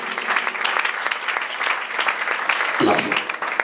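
A church congregation applauds and cheers in praise of the Lord, giving dense, sustained clapping from many hands with a voice rising briefly near the end.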